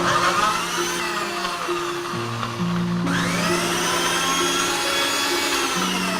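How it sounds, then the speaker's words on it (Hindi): Kitchen mixer grinder blending small fruit seed pieces with a little water: a loud, steady motor whine with shifting pitch as the load changes, continuous for the whole span with no talking. "इस तरह से थोड़ा सा पानी डालकर इनको हम पीस लेंगे।"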